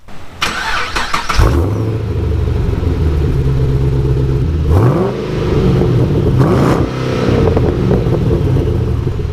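A car fitted with straight-pipe exhaust starts with a loud bark, then settles into a rough, deep idle broken by two sharp revs that rise and fall, close and unmuffled.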